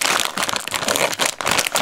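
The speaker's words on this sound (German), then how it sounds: "ich packe noch eine zweite Tüte aus, wie immer" A thin plastic bag holding stretchy dinosaur toys is torn open and unwrapped close up, a loud continuous crinkling with brief pauses between bursts of handling.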